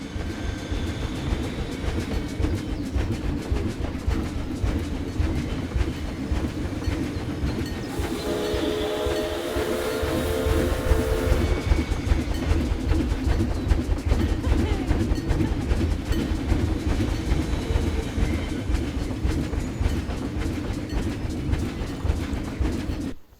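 A train ride in the video game Planet Zoo rumbles along with steady clickety-clack from the rails, and a horn sounds partway through over the continuous rolling noise.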